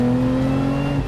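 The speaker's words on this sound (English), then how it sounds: "This, oh, great downshifts." A 2023 Lotus Emira sports car engine revs during a downshift, a loud, close, steady droning note held for about a second, with no voices.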